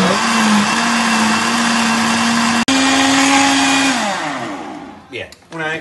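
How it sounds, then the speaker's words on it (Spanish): An electric blender whirs loudly and steadily while blending corn batter with eggs, salt and oil, with a brief cut mid-run, then the motor winds down and sputters to a stop near the end. "Esto lo vamos a licuar hasta que quede bien"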